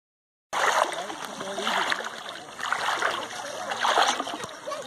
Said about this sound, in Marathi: तर तिथे जाण्यासाठी आपल्याला थोड्याशा पाण्यातून जावं लागणार आहे